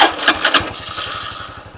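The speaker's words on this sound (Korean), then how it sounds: "머플러 소리 한번 들어볼까요?" Stock muffler exhaust of a Honda Cross Cub motorcycle idling with a steady, quiet low putter after a few brief louder blips at the start, close by and mild in tone.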